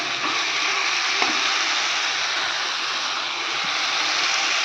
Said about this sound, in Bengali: আলু দিয়ে এবার আমি আর একটু ভালো করে কষিয়ে নেব